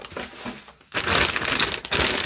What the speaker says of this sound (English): Fairly well packaged, the usual plastic bag over it.